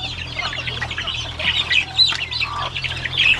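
Hens squawking in a cage on a backyard poultry farm, with overlapping harsh calls and clucks from several birds running steadily at moderate volume over a low hum.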